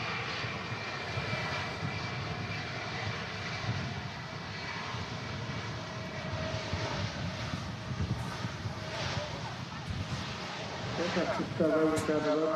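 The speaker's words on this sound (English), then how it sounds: "on the taxi out, we also have our Aer Lingus A321" An Aer Lingus Airbus A321 taxiing out at Manchester Airport on a windy day gives a steady, mid-distance jet engine whine and rumble, with wind noise around it and a rising tone near the end.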